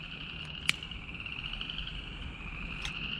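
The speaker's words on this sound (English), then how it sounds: "Hear that? Frogs are coming out now." A chorus of frogs croaking and trilling in a steady high-pitched drone outdoors in a swamp, with a couple of sharper calls standing out.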